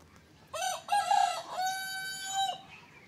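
A nearby Australorp chicken gives short clucks and then a drawn-out, rising crow in a quiet setting, lasting about two seconds.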